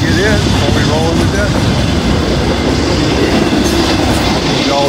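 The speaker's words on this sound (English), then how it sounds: "Caught this NS train coming, so pulled off the side of the road here." A Norfolk Southern train rolls past a road crossing in northern Ohio near Deshler, a steady loud rumble with clickety-clack of wagon wheels and brief squeals, close by and continuous throughout.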